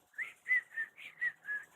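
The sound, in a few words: person whistling using the back of the tongue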